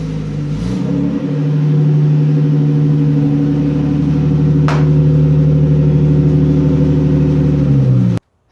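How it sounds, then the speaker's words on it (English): BMW E36 325i engine idling and pulling as the car reverses into a garage, a loud steady low droning hum with a brief rev near the start before cutting off abruptly at the end. "Let's back it into the garage and get started."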